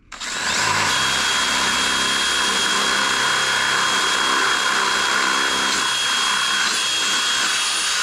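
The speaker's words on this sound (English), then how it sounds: "So I'm going to go right here, full speed, and try to hold the drill back to not let it pull itself right through." A power drill whirs steadily at full speed while boring slowly down through plywood plies, a loud continuous high-pitched whine with slight changes in tone as the bit works through the layers.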